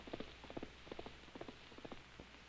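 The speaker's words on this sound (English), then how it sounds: "Dean rides bareback up through the forest trails." A horse carries a bareback rider along forest trails, its hooves clip-clopping in a steady walking rhythm, soft and somewhat distant.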